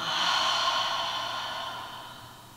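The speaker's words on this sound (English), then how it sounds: "Taking a deep inhale." A slow, deep breath during a core flow exercise session, one long airy inhale and exhale that fades gradually, close and soft with no talking.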